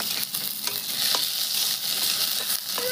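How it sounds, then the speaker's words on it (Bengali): Chopped garlic sizzles in hot mustard oil in a pan, a dense close crackle and hiss broken by scattered sharp pops and the scrape of stirring. "তেল গরম হয়ে গেছে, দিয়ে দিচ্ছি রসুন কুচি।"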